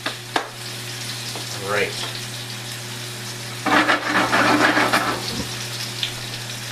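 A coffee-rubbed steak sears in a hot pan on a stovetop, a soft continuous sizzle under a steady hum, with a brief spoken phrase early and a louder burst of crackling spatter midway.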